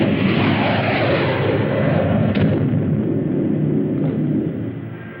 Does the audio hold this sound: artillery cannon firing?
yes